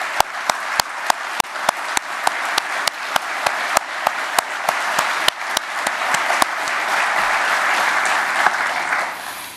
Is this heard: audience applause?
yes